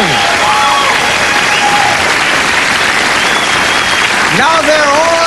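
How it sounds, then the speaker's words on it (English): Studio audience on The Arsenio Hall Show in 1989 breaking into loud, sustained applause for the Bee Gees, thick clapping throughout with cheers and whistles rising over it and some crowd voices mixed in. "I think that deserves applause."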